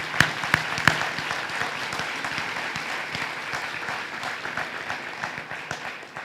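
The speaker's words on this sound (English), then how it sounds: "So let's give them a round of applause." Audience applause at an award ceremony honoring a WED Ambassador of the Year, a steady crowd clapping with a few sharp near claps at the start, sustained and even throughout.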